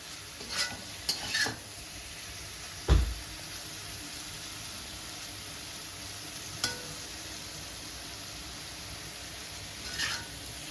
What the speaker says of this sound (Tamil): வெங்காயம் நல்லா வதங்கிடுச்சு பார்த்தீங்களா